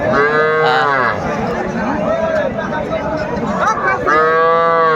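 Cattle at the Aftabganj livestock market in Dinajpur, where young bulls and heifer calves are traded, give loud, close moos at the start and again near the end, over steady crowd chatter and market hubbub.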